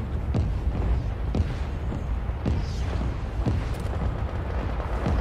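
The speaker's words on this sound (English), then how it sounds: "Be advised, our artillery is commencing fire." Artillery fire in a tactical video game rolls out as repeated booming explosions at irregular intervals, one every second or so, over a dense, continuous rumble of battle, with no talk.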